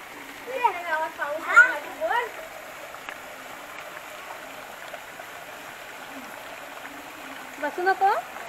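Monsoon rainwater gushes down like a waterfall in a steady, continuous rush, with a voice and nearby talk rising over it at the start and again near the end.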